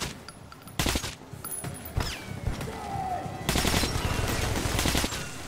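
Bursts of machine gun fire in the video game Metro: sharp rapid rattling volleys, a long one at the start and a longer sustained stretch near the end, with isolated shots and game noise between, loud and close.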